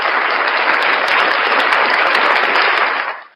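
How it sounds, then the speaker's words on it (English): Sustained applause from a live audience greeting a guest on a morning stream, dense and steady clapping filling the clip before cutting off at the end. "Round of applause for Uncle Artie, ladies and gentlemen."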